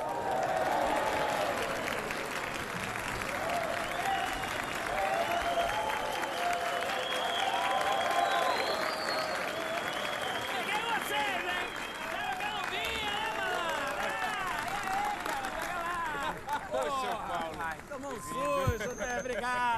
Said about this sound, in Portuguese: Uma salva de palmas pro meu amigo aqui.